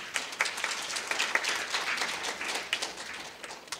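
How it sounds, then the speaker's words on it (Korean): An audience at an academic conference on Jeju haenyeo culture applauds, a dense burst of many hands clapping together at moderate volume, with no speech over it. "박수로 맞아주시기 바랍니다"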